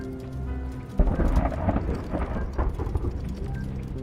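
Storm in a video game, steady rain hissing with a heavy thunder rumble breaking in after a second and rolling on beneath the downpour, no voices.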